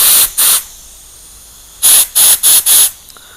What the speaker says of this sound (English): And of course, we use compressed air.